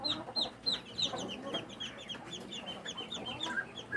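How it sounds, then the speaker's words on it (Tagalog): Young ducklings peep inside a brooding cage, a rapid stream of thin high chirps repeating throughout, fairly close and soft, with no talk. "Yan, ducklings ng itik yan mga kaibigan."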